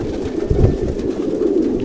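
Pigeons coo in a pigeon frame, low soft throaty calls rolling over one another in a continuous murmur, one bird swelling a little louder midway, close by and with no talk over them.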